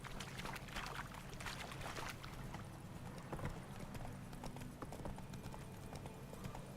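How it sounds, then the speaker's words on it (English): Hooves of the horse Roach clip-clop at a steady trot in The Witcher 3: Wild Hunt, continuous and fairly close under a busy ambient game soundscape. "when on roach, hold left shift without steering to automatically follow its path."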